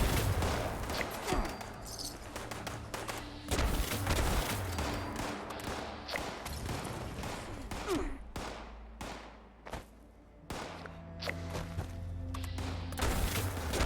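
Gunfire in the video game Fallout 76, dense bursts of rapid shots and heavy impacts, loud and nearly continuous with brief lulls, some crashing thuds mixed in and no talking.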